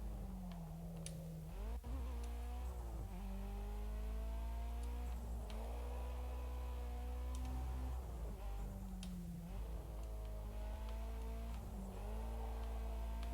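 A race car engine in the Project Cars 2 racing game revs and climbs through the gears, repeatedly rising in pitch, then dropping at each shift. It sounds steady and close, with a constant low drone and faint ticking throughout.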